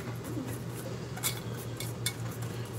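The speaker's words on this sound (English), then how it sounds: "So we're just gonna whisk this up," A whisk beats a batter mixture for fried chicken in a bowl, giving steady close clinking and scraping against the sides with a low hum behind it.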